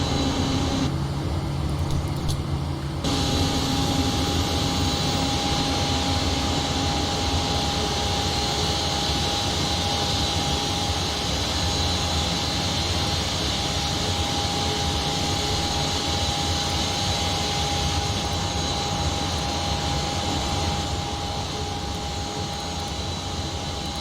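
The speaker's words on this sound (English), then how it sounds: "Right, let's start engine 1." Jet engine 1 of a PMDG 737 spools up in the Prepar3D flight simulator as a steady, loud whine and roar. It holds an even pitch throughout, and no one talks over it.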